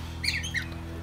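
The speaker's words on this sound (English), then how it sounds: "Oh, angry bird. Oh, look, a woody duck." A wood duck gives a brief angry squawk, a couple of sharp, bright calls heard up close over a steady low hum, with no voices.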